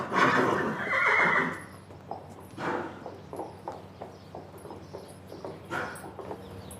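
Franches-Montagnes horses give loud, close whinnies at the start, followed by a steady run of hoof clip-clops and softer snorts on a hard surface.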